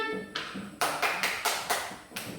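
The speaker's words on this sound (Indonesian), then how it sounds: "Oke, sekarang kita tepuk tangan." A class of young pupils claps hands in unison, a run of about six sharp rhythmic claps at a steady pace, moderately close.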